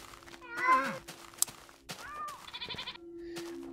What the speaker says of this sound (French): Coucou les petites chèvres.